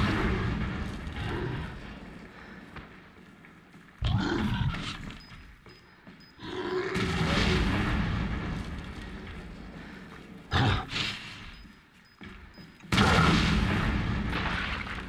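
Bombs explode in the video game Resident Evil 7 on PC: four loud, booming blasts spaced a few seconds apart, each with a roaring rumble that fades under a low ambient drone.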